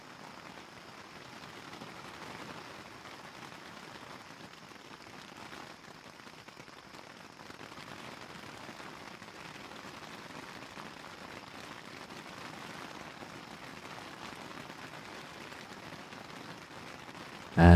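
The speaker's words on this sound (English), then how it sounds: "As you read, so you can hear the rain getting heavier on the outside of the tent." Rain patters steadily on the outside of a tent, a soft, even hiss of drops that builds slightly heavier over time, with no voices.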